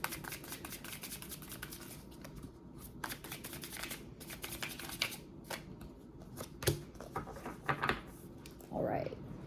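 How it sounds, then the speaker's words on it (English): Oracle cards shuffled and handled up close, a steady papery riffle with soft slaps and a few louder snaps near the end, no talking. "I'm going to be pulling one of these Angel Spirit Number Oracle cards."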